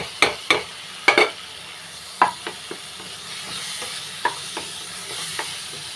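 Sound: stirring grated coconut into sautéed banana in a pan

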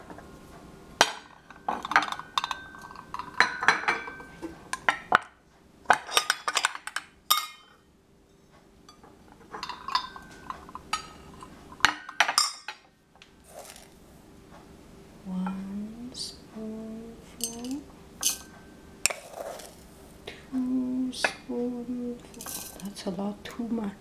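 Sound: little spoon clinking while measuring tea

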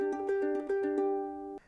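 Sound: ukulele playing first chord of the song

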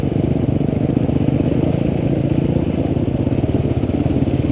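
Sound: motorcycle riding through Paluxy River crossing

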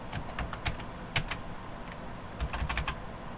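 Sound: typing on a computer keyboard in the BIOS

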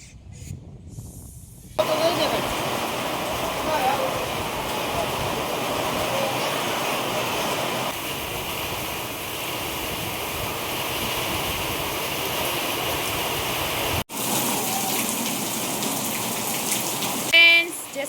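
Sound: rain

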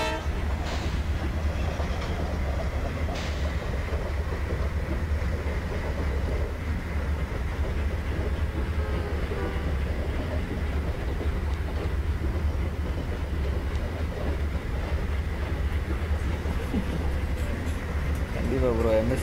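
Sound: train running in a video game, Rameshwaram–Kanyakumari Express

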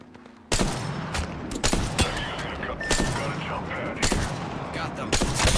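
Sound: gunfire from the video game Apex Legends

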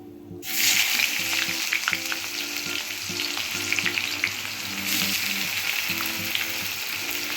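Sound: chopped onion frying with mutton masala

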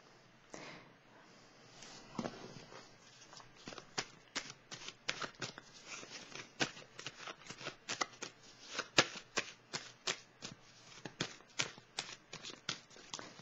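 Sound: tarot cards being shuffled

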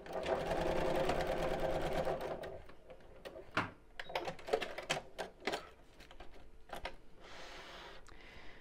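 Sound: sewing machine top stitching a fabric circle pouch

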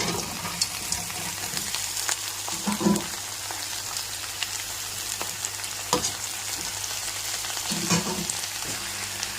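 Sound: bitter gourd frying with curry leaves and salt

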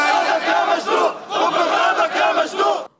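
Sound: protesters chanting hostile slogans

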